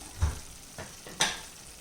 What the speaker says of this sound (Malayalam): ഇനി നമുക്കിതെല്ലാം കൂടെ നല്ലതുപോലെ ഇളക്കി മിക്സ് ചെയ്തെടുക്കാം